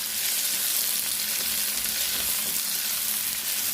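Tomato frying in a pan for a Kerala-style fried drumstick curry gives off a steady, dense sizzle that holds evenly throughout, close by, with no talking.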